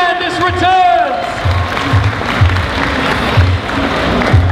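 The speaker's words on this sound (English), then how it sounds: "And those of you with free hands, clap please." An audience applauds and claps at a cosplay show at EB Expo 2012, a steady wash of crowd noise under a thumping music beat, with a brief voice at the start.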